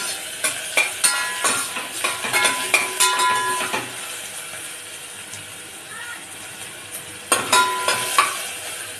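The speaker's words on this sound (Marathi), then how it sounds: "मिरची आणि ते अद्रक लसणाची पेस्ट याच्यामध्ये घालते। पुन्हा अद्रक लसणाचा मस्त सुगंध येईपर्यंत आपण त्याला भाजून घेऊया।" Chili and ginger-garlic paste frying in a pan for spiced masale bhat rice: a soft continuous sizzle broken by clinks and scrapes of stirring. The scraping comes in clustered bursts near the start and again near the end.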